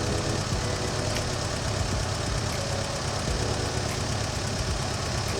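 A rusty old Volvo Amazon wagon engine idles steadily up close, a dense, even mechanical rumble with a slight knocking texture and no talk over it.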